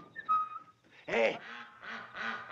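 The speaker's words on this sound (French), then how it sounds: "Des canards se sont sauvés." Ducks that have escaped quack loudly and close by in a French comedy film, a burst of several rhythmic nasal calls in quick succession with no talk over them.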